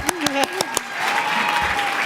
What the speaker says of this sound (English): Oh, we got some claps for Joanne.